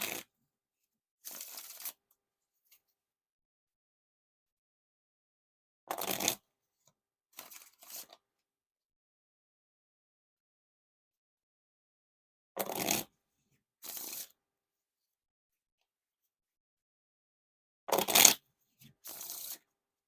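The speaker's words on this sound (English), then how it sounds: "So time for the riffle shuffles or bridge shuffles." Riffle and bridge shuffles of a Standard Cardistry-Con deck by Art of Play, crisp close-up bursts of riffling cards cascading together, each followed by a short bridge flutter, repeated four times with quiet pauses between.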